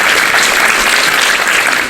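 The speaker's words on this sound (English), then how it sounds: "You should clap for that." An audience at a convention panel claps in a loud, dense burst of applause that holds steady for a couple of seconds, with no voices above it.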